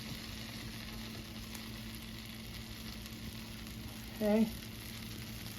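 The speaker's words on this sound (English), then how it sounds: "and we're going to toast it." Bread spread with mayonnaise toasts in a skillet, giving a steady soft sizzle and crackle throughout, with a brief short word spoken near the end.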